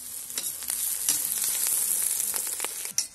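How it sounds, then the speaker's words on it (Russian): Chicken, onion and garlic fry in a cauldron over a campfire, a dense crackling sizzle broken by repeated sharp scrapes and stirring knocks, ending with a louder clatter. "Отправляем чесночок. Все вместе обжариваем."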